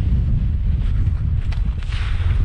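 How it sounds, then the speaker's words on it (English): Strong 15 to 20 knot wind at a local estuary buffets the microphone with a constant low roar and rumble, gusting unevenly throughout with no other sounds standing out. "it is extremely, extremely windy today"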